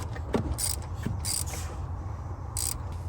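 Ratcheting wrench clicks and mechanical creaks while a spark plug is tightened on a Mercedes R230 SL55 AMG with the supercharged M113k V8, brief bursts of ratchet noise close up over a steady low hum.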